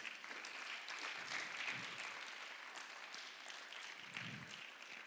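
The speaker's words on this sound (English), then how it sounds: "Give the presenters another big round of applause." School audience at a student talks event giving presenters a big round of applause, a steady, even wash of many hands clapping, heard faintly from a distance, with no voices over it.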